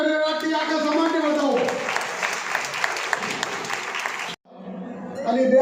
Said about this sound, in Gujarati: તાળીઓના ગણગણાટથી આખા સમાજને બતાવો.